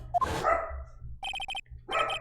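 Cartoonish dog barks from the Phoenix Wright: Trials and Tribulations video game come in short electronic bursts, separated by brief pauses, with a chiming ring mixed in.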